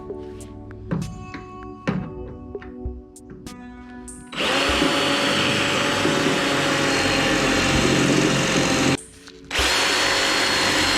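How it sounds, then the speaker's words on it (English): A power drill bores out cowl rivets on a 1964 Ford Falcon, first a few short taps and clicks, then a loud sustained whining drill run that stops briefly and restarts, close-up with no voices. "I'll start drilling them all"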